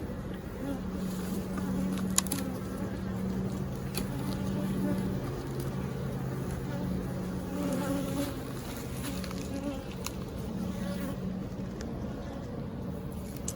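Honey bees buzz steadily at an open hive under inspection, a dense, continuous drone close to the microphone for the whole stretch, with faint talk underneath.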